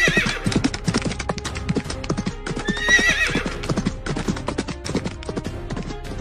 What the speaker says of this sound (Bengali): ফাঁকা মাঠের মধ্যে দিয়ে তিনজন ডাকাত ঘোড়া ছুটিয়ে আসছে।